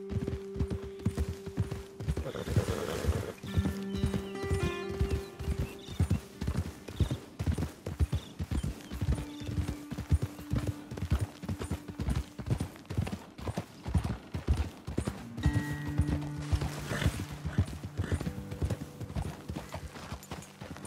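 Horses trot along at a steady clip-clop in a video game, hooves beating in a fast regular rhythm throughout, close and clear, with a faint musical drone underneath.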